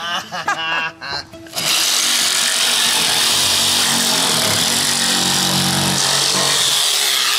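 A power sander grinds steadily across wood, loud and continuous for most of the stretch after a brief moment of voices and shuffling at the start.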